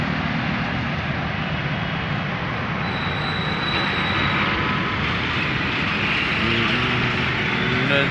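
A metro train passes on the track above an overbridge at Sindhi Camp in Jaipur, a loud steady roar and rumble of passing rail cars mixed with city traffic noise.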